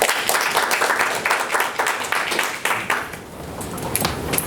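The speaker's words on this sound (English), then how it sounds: "please, a round of applause" A room applauds Mrs. Escobar after her speech at a company meeting, a dense, fairly loud wash of clapping hands that continues steadily and thins slightly toward the end.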